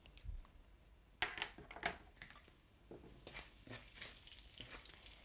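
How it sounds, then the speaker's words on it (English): Cumin seeds sizzling in hot oil in a pan, a faint, steady crackle with a few light clinks from the pan and utensil. "You can see it sizzling"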